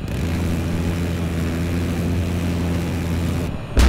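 Attack helicopter in the video game Battlefield 4 drones steadily with a low rotor and engine hum, loud and constant, ending with a sudden louder burst.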